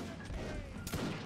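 A regiment fires a musket volley in a line-infantry video game battle, heard as a faint, distant crackle with one sharper burst near the end.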